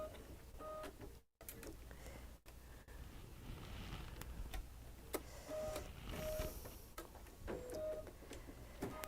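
A home embroidery machine stitches a circular hook-and-loop placement line in white thread, giving off a busy, continuous mechanical whir and rapid needle ticking. The sound stays steady and close throughout, with a brief dropout near the start.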